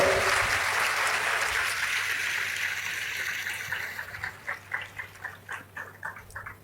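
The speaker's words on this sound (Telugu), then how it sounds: "మీరు మీ వరకు కొట్టండి చప్పట్లో" An audience at a church gathering applauds, a dense wash of clapping that thins after a few seconds into separate, rhythmic claps, with a voice faintly present.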